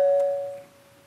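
A doorbell at a house door gives one clear ding that rings out and slowly decays, heard alone and moderately loud at close range.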